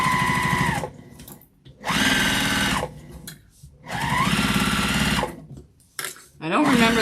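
A sewing machine backstitches and then sews a half-inch seam on a tote bag, running in two loud, close bursts of about a second each, separated by brief pauses and short bits of handling.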